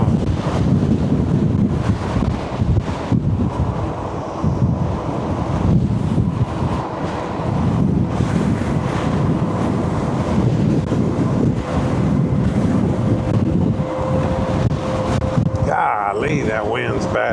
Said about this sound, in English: Golly, that wind's bad.